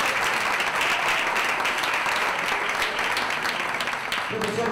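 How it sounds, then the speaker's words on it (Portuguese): An audience at a Pint of Science Brazil event applauds a professor, sustained dense clapping from a sizeable crowd that carries steadily through the whole stretch before easing slightly at the end. "Uma salva de palmas para o professor."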